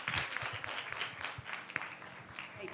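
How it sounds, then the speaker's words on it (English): Audience applause at an interactive storytelling session, a steady wash of many hands clapping at moderate distance, fairly soft and continuous through the whole stretch. "A big round of applause for them."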